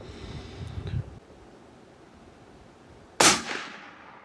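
A single rifle shot fired at a target 100 yards away in gusty wind, one sharp loud crack followed by a short decaying tail, heard alone after some faint low rustling.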